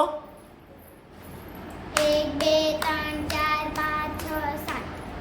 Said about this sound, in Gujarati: તો સાત તાળી પાડો